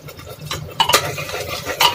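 A spoon scraping and knocking in a pan as masala for matar paneer is stirred and roasted over medium heat, a few close metallic clinks and scrapes over a faint background.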